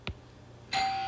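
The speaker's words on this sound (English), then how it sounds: "Sorry, y'all, doorbell." A doorbell chimes twice, a short tone followed by a longer ringing one, clear and fairly close in a quiet room.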